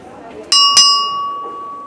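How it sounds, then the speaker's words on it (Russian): At a market stall in Odessa's Privoz, an old ship's bell is struck twice in quick succession. Each bright, clanging hit is loud and close, and the metallic ring sustains and slowly decays after the second strike. "Звон. Ну колокол. Да ты шо? Рында"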